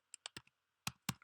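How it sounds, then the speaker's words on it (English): A handful of quick, crisp keystrokes on a computer keyboard, close and isolated in a quiet room, spaced irregularly with a short pause before the last two taps. "Let me type"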